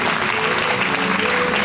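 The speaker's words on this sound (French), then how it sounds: "je demande des grands applaudissements à Stanislas Lepcha qui arrive" Loud, dense applause from a conference audience greeting an arriving speaker, continuous clapping throughout.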